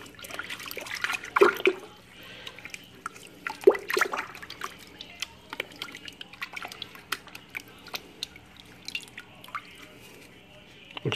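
Water runs and drips as Purigen filter media from an aquarium canister filter is rinsed, with intermittent splashes and trickles at close range.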